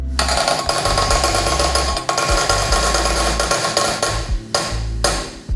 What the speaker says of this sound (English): hammer the guard back on, remove material, and keep doing that